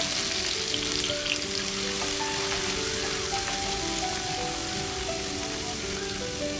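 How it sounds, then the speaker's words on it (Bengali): Chopped onion fries in oil for a Bengali payratali fish curry, a dense, steady crackling sizzle close up that holds evenly throughout, with faint tonal hum beneath and no speech. "পেঁয়াজ কুচানোগুলোকে বেশ একটু ভেজে নেব।"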